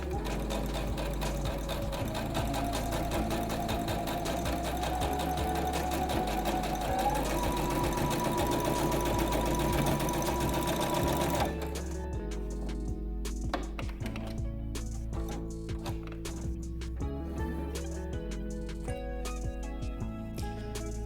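A sewing machine runs steadily, stitching to finish a seam, with a dense mechanical whir for about eleven seconds, then stops, leaving faint handling noises and quieter intermittent clicks.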